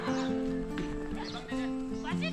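Horse hooves thudding along a farm trail in Bukidnon during a backride, heard under steady nearby talk with a brief whinny-like tone.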